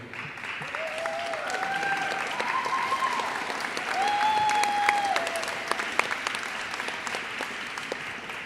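Applause at a school fall athletic awards ceremony, a steady patter of many hands clapping throughout, with brief spoken voices rising over it.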